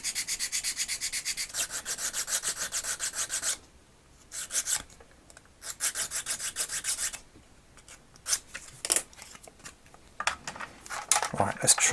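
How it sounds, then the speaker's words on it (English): Rasping sanding strokes on the posts of a vintage Palitoy Star Wars X-Wing toy, rubbed in steady back-and-forth bursts with short pauses between, close and fairly loud with no talk. "So quick sand of that, and then these are going to fit really perfectly."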